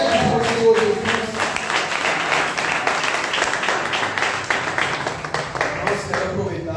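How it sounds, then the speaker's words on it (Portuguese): Church congregation clapping in praise to God during a youth service, steady dense applause filling the room throughout, with voices mixed in over it. "Glorifica a Deus com palmas"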